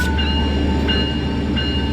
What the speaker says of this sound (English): The EMD F125 is a passenger locomotive manufactured by Electromotive